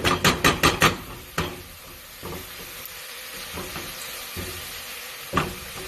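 Garlic sautéing in a pan for homemade pizza sauce, with a few sharp clanks from stirring at the start and a low, steady background sizzle that continues throughout.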